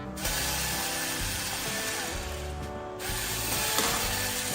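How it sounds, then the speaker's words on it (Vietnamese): Ratchet tool clicking steadily as screws are backed out of an electric vehicle's steering wheel, a continuous close, rapid ratcheting that runs almost without pause. "Giờ mình phải mở hết các con ốc này ra để mình lấy cái linh kiện ở bên trong cái vô lăng đó."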